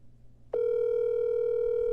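Steady telephone dial tone on a phone line as a call is placed, starting abruptly after a brief quiet moment and holding loud and unbroken to the end.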